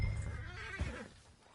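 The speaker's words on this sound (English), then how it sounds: "I've been meaning to offload this big Shire horse for a while now." A big Shire horse in Red Dead Redemption 2 gives a short, faint neigh lasting about a second, with a soft hoof clop beneath, no one talking over it.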